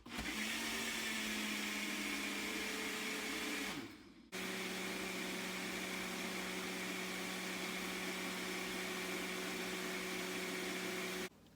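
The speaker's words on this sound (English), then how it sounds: "Now once it cools, we will blend it." A Ninja blender blends milk steadily at high speed, briefly cutting out for a moment before starting again and running on continuously at a loud, even pitch.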